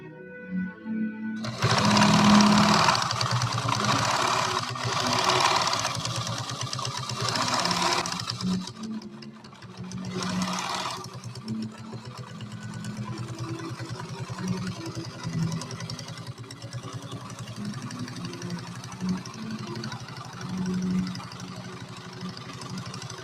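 An Adler 189A industrial sewing machine stitches leather at a leather show, a loud, steady mechanical hum and rapid needle chatter that runs continuously, with a short pause and restart midway, and no talking.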